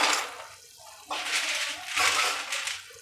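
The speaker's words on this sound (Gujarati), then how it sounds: "પાણી ઉકળી ગયું છે. હવે આપણે એમાં પાસ્તા ઉમેરી દઈશું." Dry pasta goes into a pot of boiling water, making surging, rushing bubbles that swell and ease in uneven waves over a few seconds, with no voices.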